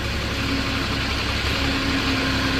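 Diesel engine of a 2015 Moffett M8 55.3 truck-mounted forklift idling steadily at close range, a continuous even rumble with no talk.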